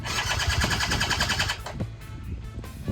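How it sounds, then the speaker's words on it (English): Quad bike engine being turned over during a restoration, a rapid rhythmic cranking whir for about a second and a half, then stopping, followed by a few clunks close by. "but if I turn the bike, I hope that it turns over so that we know it's not seized up"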